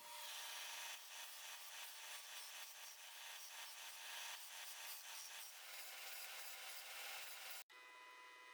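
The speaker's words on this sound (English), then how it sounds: "so I've got a lot of sanding to do." A glued wooden heart lamp is sanded with steady, rhythmic rubbing strokes, close and continuous, before the sound cuts off abruptly near the end.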